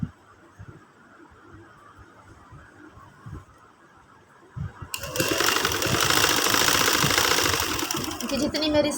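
Someone speaks quietly at first. Then a sewing machine starts up close and runs loud and continuous, stitching invisible lace onto a fabric strip.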